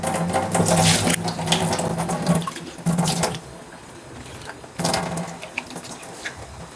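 Fresh mint leaves are rinsed under a running kitchen tap to wash off soil, a steady close gush of water splashing in a sink that cuts off and restarts in bursts, with no voices.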